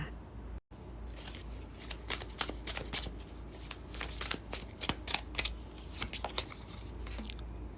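Tarot cards being shuffled, a steady run of crisp riffling snaps and papery flutters, close and fairly loud, with no talking.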